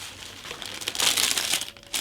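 Bubble wrap and a plastic bag crinkle and rustle close by while a scale-model kit is being unboxed, in irregular bursts that swell to a busy crackle midway and again at the end.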